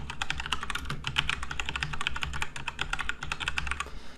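Rapid typing on a computer keyboard, steady clicking keystrokes at close range with no voices, heard while entering code for a linear algebra graphing lesson.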